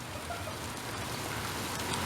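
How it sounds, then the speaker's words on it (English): Steady, dense rain hisses without a break, a continuous wash of falling water with no voices. "It's pouring, huh?"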